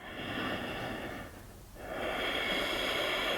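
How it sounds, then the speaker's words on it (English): Ujjayi breathing during a power yoga session: a long, audible, throaty breath with a soft ocean-like rasp, briefly pausing between inhale and exhale, close and steady. "We really want to tap into the Ujjayi breathing here."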